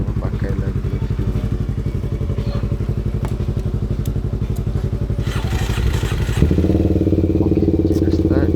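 A motorcycle engine at a race track idles with a rapid, thumping chug, then revs up louder and rougher toward the end.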